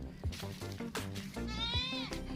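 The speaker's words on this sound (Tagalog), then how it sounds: "Isa nating alagang kambing nandun." A pet goat on a farm gives a few bleats nearby, with a longer wavering bleat near the end, alongside other low animal or background sounds.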